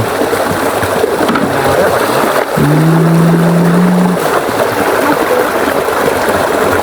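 Water flowing out of a tree: a loud, steady rush of pouring and splashing water, briefly joined midway by a short humming tone.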